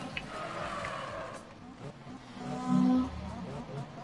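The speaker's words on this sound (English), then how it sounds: "they hear his car going nuts behind here" A car engine revs hard in a brief burst of rising, harmonic engine tones, with people talking over it.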